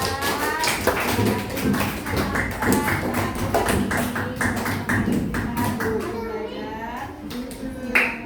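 Children and adults in a classroom clap for a pupil's mother, a steady patter of many light, close claps mixed with children's voices and chatter.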